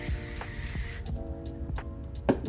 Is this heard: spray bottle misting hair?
yes